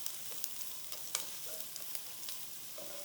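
Chopped onion softening in a pan, a soft steady sizzle with quiet clicks and scrapes of stirring, fairly faint and close.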